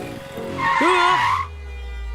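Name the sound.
car approaching and skidding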